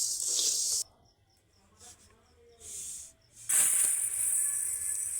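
Puffed rice roasting without sand in a pan with salt, bursts of dense hissing crackle that stop and start, loud at first, then near silence with faint ticks, then a strong sustained crackling rush again.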